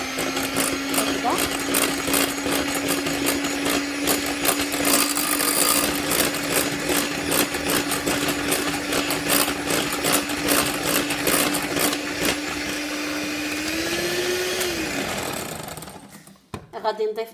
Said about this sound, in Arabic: كتشوفوا غادي نخفق عاوتاني مره